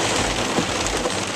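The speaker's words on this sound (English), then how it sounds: "much needed rain" Steady rain falls across a summer lawn, a dense even hiss of drops on grass and surfaces that runs close and unbroken through the whole moment, with no voices.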